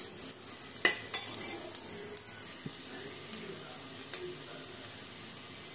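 Leftover vegetables fry in a pan for biryani, giving a steady soft sizzle and hiss with occasional clicks and scrapes of stirring, close but fairly quiet.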